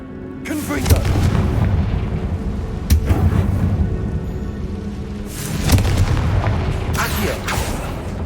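Booming fire spell blasts in the Hogwarts Legacy video game, three heavy explosions about two seconds apart with a rumbling tail between them, loud and close.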